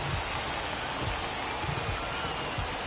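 Rain falling on a baseball field in a PS4 baseball game, a steady, dense hiss of rain that continues evenly throughout.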